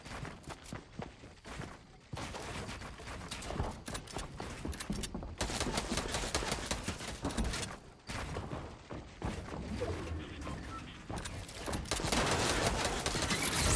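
Rapid bursts of gunfire from the Fortnite video game crackle across the whole stretch, dense volleys with brief gaps, loud and close throughout.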